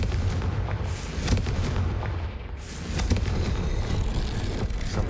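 A Confringo blasting spell in the Hogwarts Legacy video game, heard as a loud, sustained rumbling explosion with booming low roar and crackling debris, dipping briefly before surging again.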